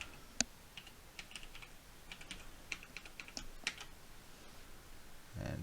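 Quiet, close keystrokes on a computer keyboard as a wallet password is entered, with irregular clicks spread over several seconds and a soft low rustle at the end.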